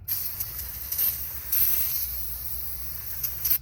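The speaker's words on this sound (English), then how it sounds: "hit it with some brake clean" Aerosol brake cleaner sprayed onto a harmonic balancer being restored, a steady hiss with several brief louder bursts of spray over about four seconds, with no talking.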